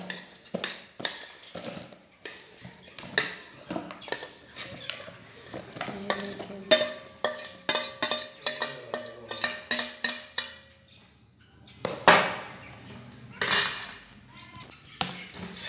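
Spicy guava pieces are tipped into a container with a run of close clattering and knocking of fruit against a dish, a pause, then a couple more bumps.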